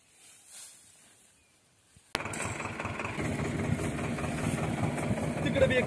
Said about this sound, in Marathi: मशीन जोडून ठेवली ट्रॅक्टरला